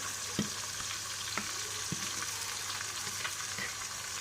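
Chicken pieces frying with onions in a pan for biryani: a soft, steady sizzle punctuated by several distinct utensil knocks and stirring scrapes, fairly faint and without talk.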